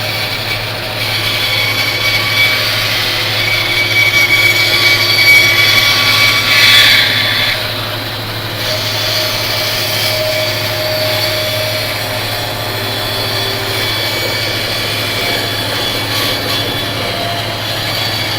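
A saw blade cuts around a wooden bowl blank, giving a loud, steady motor roar and whine close by. A rising cutting swell is followed by an even drone, and no one speaks.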